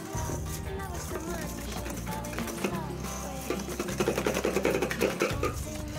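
An electric mixer beats an egg and sugar mixture with cornstarch for a macaron filling, giving a loud, steady motor whir that runs the whole time with a busier rattling stretch near the end.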